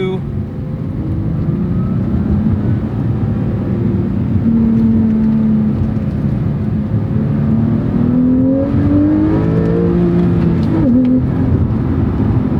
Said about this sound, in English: Now it is also rev matching the downshifts for me.